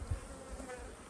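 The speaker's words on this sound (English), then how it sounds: "You're some good fucking bees," Honey bees in a farm beehive give off a close, steady buzzing hum with a few low bumps, and no one talks.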